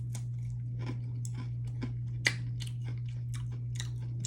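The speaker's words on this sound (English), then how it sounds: "as you start chewing it, it becomes like this ball of solid sugar." Close, crunchy chewing of a Butterfinger Salted Caramel candy bar, a steady run of sharp crackling bites and chomps with one louder crunch midway, over a constant low electrical hum and no talk.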